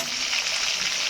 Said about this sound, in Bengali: পেটির মাছগুলো ভাজা হয়ে গেছে, এবার ঘাড়ার মাছগুলো দিয়ে দিলাম।